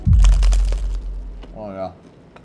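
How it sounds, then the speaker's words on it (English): A bite into crunchy wagyu tartare crostini gives a loud close crackling crunch with chewing, followed by a man's appreciative murmur. "The crunch."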